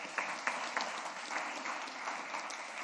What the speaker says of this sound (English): I think they're worth a round of applause with them all sitting there